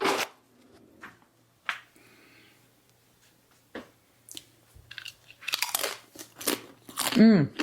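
Close, sharp crunches of crisp chips being bitten and chewed in bursts, with some quiet talk and rustling between bites.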